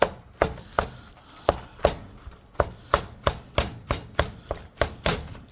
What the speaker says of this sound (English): the meat we're using 1 pound of ground beef and 1 pound of ground pork. And get that in there, chop it up